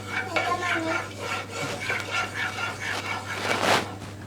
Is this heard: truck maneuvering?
no